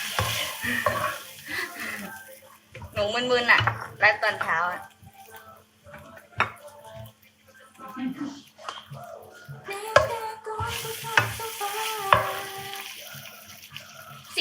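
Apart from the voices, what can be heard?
food frying in a hot pan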